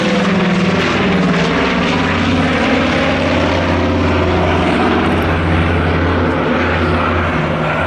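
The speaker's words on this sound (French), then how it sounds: "Quel beau son! Mais c'est un son anglais. Bristol Hercules, les moteurs sans soupape" A Nord 2501 Noratlas with Bristol Hercules sleeve-valve radial engines runs close and loud, a continuous deep, throbbing propeller drone with a rough pulsing rumble held steady throughout.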